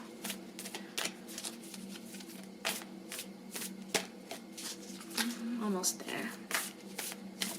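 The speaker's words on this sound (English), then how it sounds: "until then I will shuffle until I feel" Tarot cards are shuffled by hand in quick repeated riffles and slaps close to the microphone, with soft spoken words over the shuffling.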